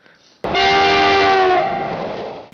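A loud train horn sounds as a single sustained blast of about two seconds, breaking in after a brief quiet start and fading near the end, with no talk over it.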